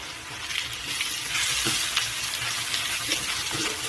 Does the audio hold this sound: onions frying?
yes